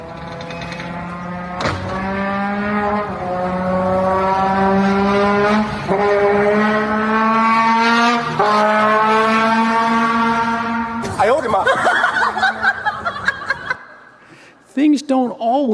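A Ferrari engine revving in repeated rising sweeps with short gear-change breaks, loud and steady, then a shift to a different higher, warbling tone near the end; laughter and chuckling can be heard alongside.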